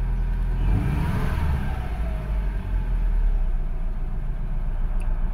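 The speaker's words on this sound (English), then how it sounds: "what I want to do is just to give it some throttle." A 2007 Subaru Forester engine, being diagnosed for a turbo problem, hums loudly and steadily as throttle is applied, with a low continuous drone and a mild rise in revs.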